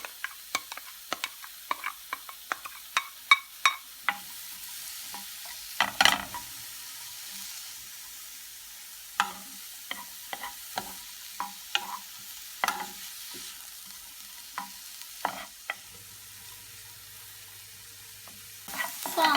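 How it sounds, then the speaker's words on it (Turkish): Thinly chopped onions sizzle quietly in oil in a pan while a utensil stirs and scrapes with repeated clicks and taps, close by. "1 adet ince ince doğradığımız kuru soğanı ilave edip kavuralım."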